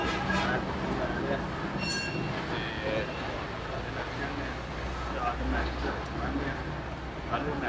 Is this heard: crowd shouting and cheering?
no